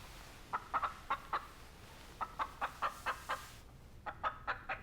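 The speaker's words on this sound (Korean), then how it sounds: "밖에 있던 닭 소리가 분위기를 깼는데," Outdoors, a chicken clucks in quick repeated bursts of three to five clucks with short pauses between, moderately close and clear over a quiet background.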